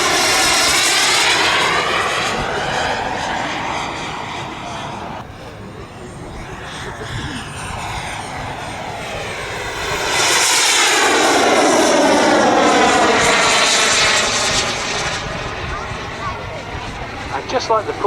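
A model airplane performs agile passes at an air show, its engine whine rising and falling as it sweeps by, swelling loud near the middle and fading again, with a voice commentating over it.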